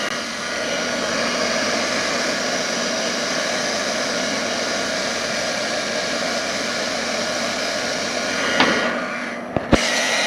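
A spray gun lays down a third coat of paint on a BMW 750i panel, a steady, loud, close airy hiss that runs unbroken for nine seconds before a couple of sharp clicks as it stops.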